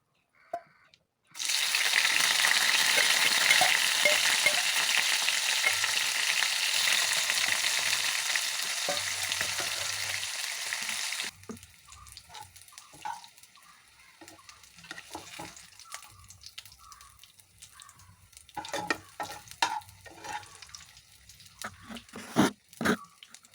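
A loud burst of sizzling erupts as tender jackfruit hits hot oil, roaring steadily for several seconds before settling into softer crackling and occasional clinks.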